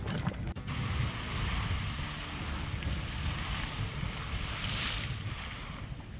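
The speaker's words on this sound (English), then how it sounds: "Cliff Geyser." Cliff Geyser erupting in Yellowstone National Park, a steady rushing hiss of water and steam close by, continuous and fairly loud throughout, with wind buffeting the microphone.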